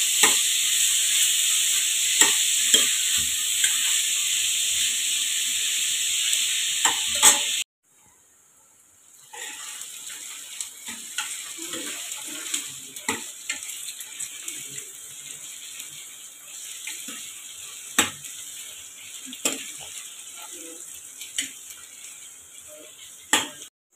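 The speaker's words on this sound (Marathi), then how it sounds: "कांदा आपल्याला आता मस्त असा गुलाबी रंग येईपर्यंत परतून घ्यायचा आहे" Onions sautéing in a pan over a high flame for mutton keema: a bright, steady hiss of sizzling oil at first, then after a brief gap a quieter sizzle punctuated by scraping and stirring clicks.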